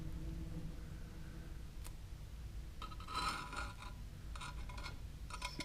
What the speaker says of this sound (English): then you can just scrape it a bit and it comes off